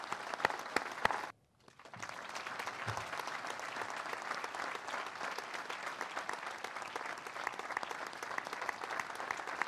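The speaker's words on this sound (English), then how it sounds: "Please join me in a round of applause for these great heroes." Dense, sustained applause from a large audience at a 101st Airborne Division change of command ceremony, honoring heroes. A brief dip early on, then continuous, full clapping to the end.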